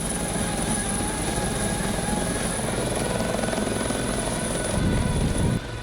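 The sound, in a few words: military helicopter flying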